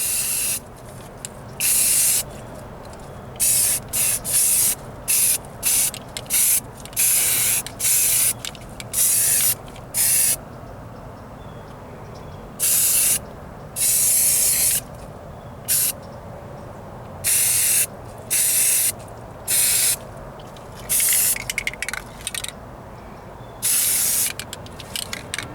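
Spray gun laying a light tack coat of primer on a patched Ford Ranger floor pan, loud hissing bursts starting and stopping in an irregular rhythm over a quiet shop background, no talking.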